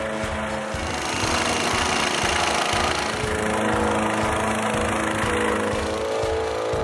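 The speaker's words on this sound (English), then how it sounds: "Plate compactors are effective to a depth of 300 millimeters." A plate compactor engine runs loud and steady on a construction site, a dense, rough mechanical drone with a fast vibrating pulse that continues without a break, and no talk over it.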